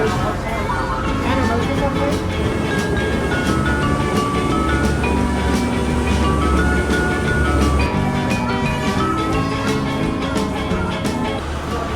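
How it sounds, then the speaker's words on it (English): A Disney World monorail rolls along with a continuous rumbling drone, rhythmic clicks and a rising electric whine, heard from inside the car while people talk over the ride noise. "now we're taking a monorail"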